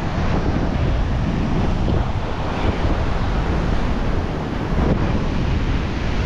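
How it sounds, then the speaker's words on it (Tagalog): Heavy ocean surf roaring continuously close by, a dense wash of crashing waves mixed with strong wind buffeting the microphone. "sobrang laki ng alon."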